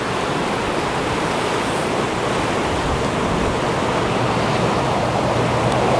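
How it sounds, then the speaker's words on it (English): A flooded river rages near Brookhouse Mill in Denbigh, North Wales, a loud, continuous roar of rushing water with no let-up and no voices. "And the river still rages."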